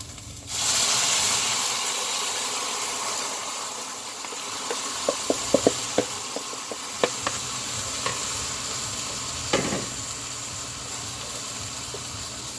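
A loud burst of sizzling starts suddenly as tomatoes hit a hot pan with garlic, settling into a steady hiss, with scattered light clicks and scrapes from stirring.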